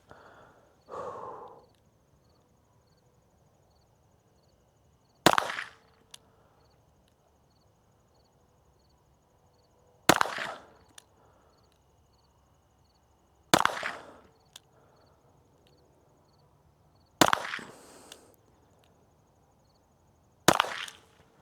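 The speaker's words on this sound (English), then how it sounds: "I'm going to try 4 or 5 more rounds and just see what I get." Five sharp rifle shots fired one at a time while confirming zero on a range, each a crisp crack with a short tail, spaced several seconds apart with quiet breathing and handling noise between.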